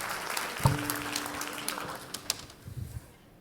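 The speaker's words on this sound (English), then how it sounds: "Give yourself a round of applause." Audience applause at a talk on flow state, a burst of clapping that swells sharply near the start and then tapers off over a few seconds, with scattered louder claps near the end.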